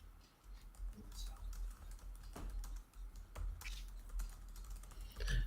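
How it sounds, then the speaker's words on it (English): Rapid clicking of keys on a computer keyboard while a message is typed, quiet and close, in irregular bursts under faint background talk. "Just typing a little message into our viewers out there."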